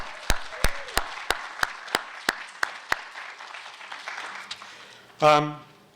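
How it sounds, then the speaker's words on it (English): A few loud, sharp claps ring out in a slow regular beat, followed by scattered softer applause from the lecture audience and a brief vocal whoop near the end. "Give them a cheer now."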